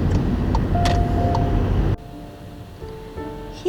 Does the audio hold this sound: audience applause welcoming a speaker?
no